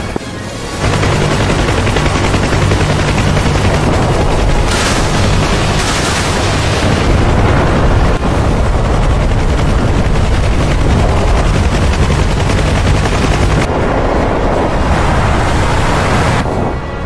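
Sustained loud gunfire and heavy automatic fire in the DCS World flight simulator during a Cold War combat search-and-rescue mission, a dense continuous barrage with bursts layered over a steady roar and no talk.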